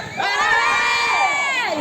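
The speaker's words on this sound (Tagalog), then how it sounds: "Sumigaw naman ang GM4." Supporters of a basketball team at a local league game in 2024 let out a loud, sustained shout and cheer together, a single strong burst of voices rising and holding for nearly two seconds.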